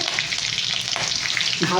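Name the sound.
frying green chilies with five-spice (panch phoron)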